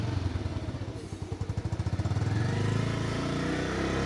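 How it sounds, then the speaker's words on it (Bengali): A motorcycle engine revs during a riding lesson, sputtering in quick regular pulses that rise into a louder, steady drone close by. "জোরে টানলে জোরে শব্দ করে দেখো না"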